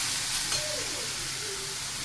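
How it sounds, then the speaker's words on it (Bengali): Onion and tomato paste fries in a pan with nigella seeds, giving a soft, continuous sizzle and hiss with faint stirring scrapes. "কালো জিরে ফোড়ন দিয়ে পেঁয়াজ টমেটো বাটাটা দিয়ে দিলাম"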